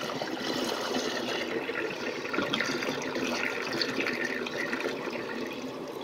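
A miniature 1994 Kohler Highcliff toilet flushes with a steady rush of running water, holding an even level for several seconds.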